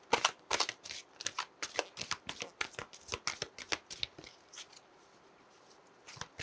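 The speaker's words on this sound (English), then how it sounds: "let's pull an affirmation card for you" Tarot affirmation cards being shuffled by hand in a quick run of crisp, riffling slaps close up, with a short pause near the end before a final flurry; no one speaks.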